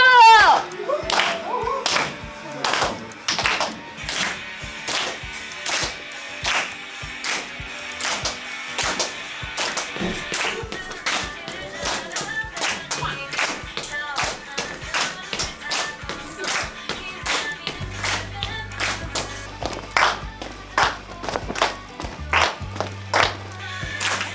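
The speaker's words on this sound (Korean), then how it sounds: "다들 박수!" Audience clapping at a Korean pre-festival vocal show, a dense patter of claps mixed with music and voices, fairly loud and continuous.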